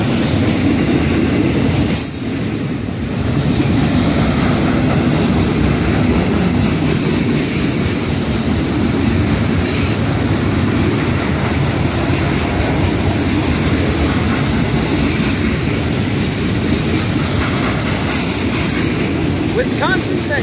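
A CSX freight train of hopper cars and boxcars rolls past close by, a loud continuous rumble with wheel squeal and rail clatter running the whole time.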